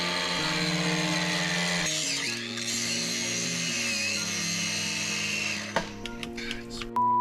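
A cordless cutoff tool powered by a knockoff Ryobi-style battery whines steadily at close range, with its pitch shifting slightly as it runs, before it cuts out abruptly and leaves a few faint clicks.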